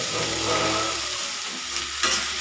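Shrimp dropped into a frying pan already holding potatoes and onion, giving a loud, steady sizzle with a brief sharp flare of crackling near the end.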